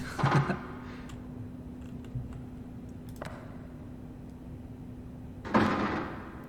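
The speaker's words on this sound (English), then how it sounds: "Why are things creaking?" Creaks in the survival game Stationeers come as a few sparse creaking and clunking sounds over a steady low hum, with a louder groan at the start and another near the end, no voices.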